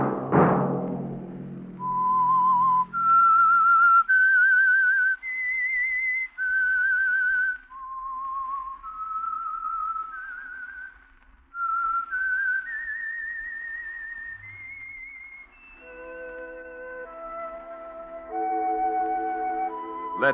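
A clear whistled melody, slow and bright, stepping up through sustained notes, then giving way to held musical tones near the end, the theme of a radio drama.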